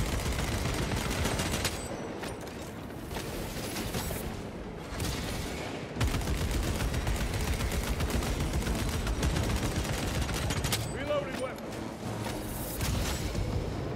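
Sustained heavy gunfire in Warhammer Space Marines 2 rattles continuously for the whole stretch, dense overlapping shots and booming impacts, loud and close with brief dips in intensity.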